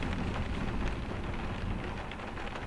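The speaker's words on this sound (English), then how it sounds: "Heavy rain outside, glowing red sky." Heavy rain pouring down outside a cabin camp during a storm, a dense, steady hiss of drops drumming on surfaces, loud and unbroken with no voices.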